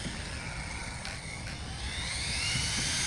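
An Arrma Typhon 6S RC car running on a 3S battery is driven at full throttle, its motor giving a steady high whine with a rising buzz, moderately near.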